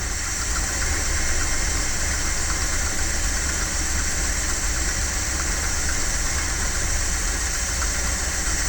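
A 1978 Dodge engine idles steadily with a continuous mechanical rattle from a loose pin, a constant loud drone and buzz with no talk.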